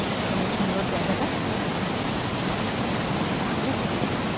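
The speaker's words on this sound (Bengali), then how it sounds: "এই দেখো জল, জলের স্পিড দেখতে পাচ্ছ" Jatinga Waterfall, also called Retzawl Waterfall, where fast-rushing water gives a loud, steady broadband roar that fills the whole clip, close by and unbroken.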